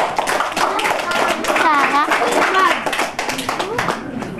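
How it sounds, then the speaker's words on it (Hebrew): Rapid hand clapping at a child's tenth birthday party in 1993, crisp and close, with children and adults talking and calling out over the claps. "אנחנו נשמח מאוד למחיאות כפיים אם יש"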